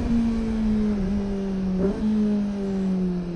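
A Kawasaki ZX25R motorcycle engine revving at night in a Putrajaya parking lot, a steady high drone with a brief blip in the middle, close and continuous with no talk.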